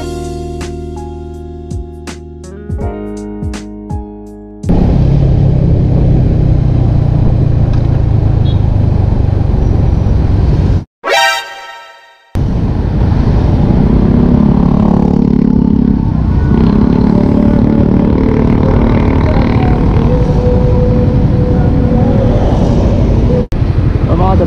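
A Yamaha Mio scooter engine struggling to start: a few sputtering, uneven bursts at first, then a loud, steady running drone with a brief cut-out partway through, recorded close with wind noise.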